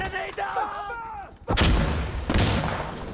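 A loud grenade explosion in a realistic military shooter video game, one sharp blast followed by a second boom, preceded by whistling radio-like chatter and ambient battlefield noise.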